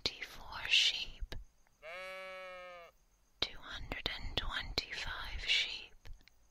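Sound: whispered imitation of a sheep's baa

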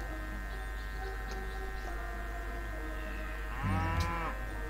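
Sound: cow mooing in the video game Civilization V

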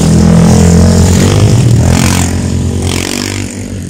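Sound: motorcycle passing by

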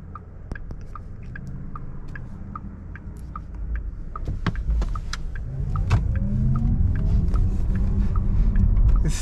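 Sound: Porsche Taycan Turbo S accelerating in sport mode

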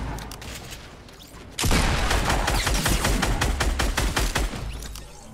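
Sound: grenade launcher firing in the Fortnite video game

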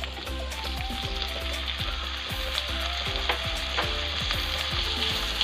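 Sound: green chili and tomato frying for beef curry

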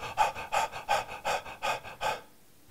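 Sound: fast active breathing demonstration

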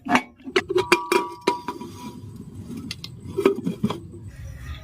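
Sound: pressure cooker lid being put on

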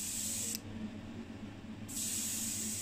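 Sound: paint spray gun spraying candy paint on Mazda RX7

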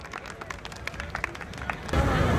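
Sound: audience applause

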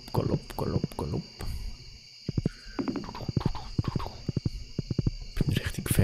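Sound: horse galloping hooves while riding in the video game Stardew Valley

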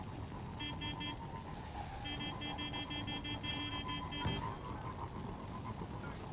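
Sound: vehicle horn honking in a video game

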